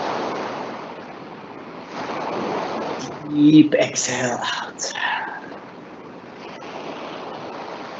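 Ocean waves crash and wash steadily on a beach as a soft, continuous surf roar, while a calm voice speaks over them.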